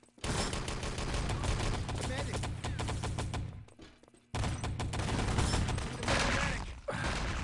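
Dense, continuous gunfire from rifles and automatic weapons with grenade blasts in Enemy Territory competitive play, loud and sustained, with a short lull in the middle before the firing resumes.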